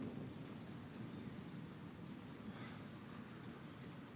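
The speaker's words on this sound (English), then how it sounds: "I'm happy it's raining because I can sleep." Steady, continuous rain with a low, rolling rumble of distant thunder underneath, a dense wash of noise with no voices.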